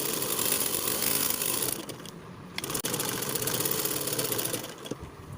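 A sewing machine stitching a blouse sleeve down the middle makes a fast, continuous mechanical whirr and rattle, close and steady, dipping briefly midway before carrying on, with no speech.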